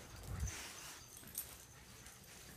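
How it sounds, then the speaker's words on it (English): Dogs at an adoption shelter, with a brief low whimper near the start over a quiet background of faint rustling and distant movement. "Too many dogs."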